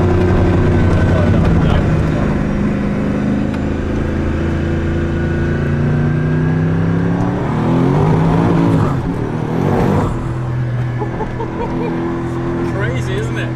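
A Gumpert Apollo S sports car engine growls loudly and close, a sustained low rumble with a brief rev swell partway through, while people talk over it.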